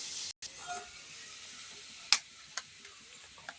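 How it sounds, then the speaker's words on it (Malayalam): Ambarella pickle mixture sizzling and frying in a pan, faint and steady, with a few sharp spoon-against-pan ticks as it is stirred; no talking. "ഇളക്കുന്നു."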